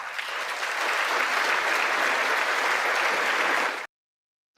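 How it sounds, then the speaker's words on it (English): Members of Congress break into dense, steady applause that holds for almost four seconds and then cuts off abruptly, followed by near silence and one faint knock. "he got a lot of applause"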